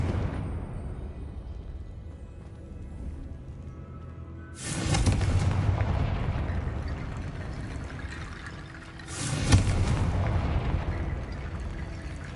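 Confringo blasting spell from Hogwarts Legacy on PS5 goes off twice, each a sudden loud blast collapsing into a long rumbling, crackling roar that slowly fades, with no voices.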